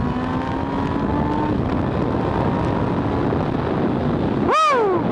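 A motorcycle ride with a steady engine drone and constant wind rush, a faint rising tone early on, and a quick whooshing pass-by near the end.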